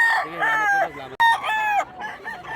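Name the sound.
rooster crowing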